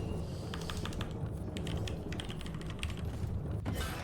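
Steady, rapid clatter of keys on a computer keyboard during a Danish casino gambling livestream, close and continuous with no voices.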